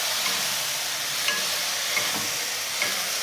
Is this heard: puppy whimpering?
no